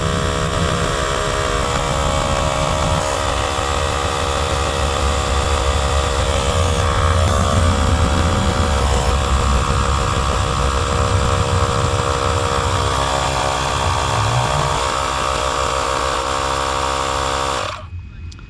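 An Astro AI cordless tire inflator air compressor runs nonstop, loud and close, with a dense buzzing mechanical drone that holds steady before cutting off abruptly near the end.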